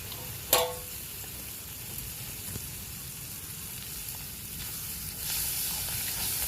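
Eggs frying in a wok-style pan outdoors by a river in rainy weather, a steady close sizzle running throughout with a sharp clatter near the start and a brighter rise in the hiss toward the end.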